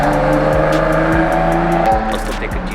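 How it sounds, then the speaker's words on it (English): A Honda NSX sports car sweeps past nearby with a loud, steady engine note and tire roar, fading slightly toward the end. "Ooh, NSX."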